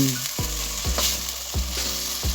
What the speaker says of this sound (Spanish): Añadiremos también 3 ajos cortados a trozos. Y a fuego lento vamos dejando que se vayan dorando.